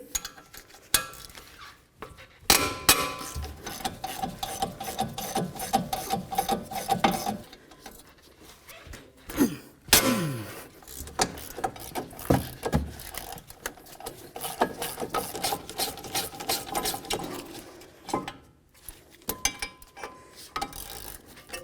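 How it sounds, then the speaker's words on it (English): Ratcheting clicks and metallic mechanical turning, as front brake caliper bracket bolts on a 2012-2019 BMW 328i are loosened with a ratchet wrench, steady with brief pauses, close up. "Let's remove both of these bolts right here."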